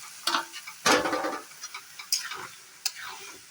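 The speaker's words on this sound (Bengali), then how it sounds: "মশলাটা ভাজতে থাকি" Spices fry with potato and tomato in a hot pan: short sizzling bursts and scraping stirs, irregular and close, with quieter crackling between them.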